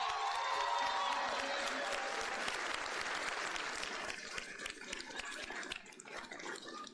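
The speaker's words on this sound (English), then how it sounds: "let's give a round of applause for Zion and for Lauren for doing such a great job" Loud crowd applause fills a rally for several seconds, dense clapping that thins slightly toward the end, with scattered voices mixed in.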